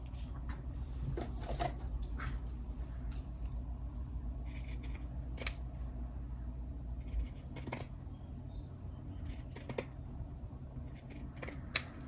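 Scissors trimming paper ephemera for a journal, several separate crisp snips spread out over a quiet room tone with a low background hum, close and fairly soft, with no talk over them.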